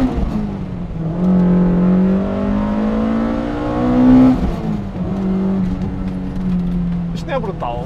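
A BMW 320is E30 with an S14 engine revs up in a rising whine, peaks, then settles back to idle, with someone talking over it near the end.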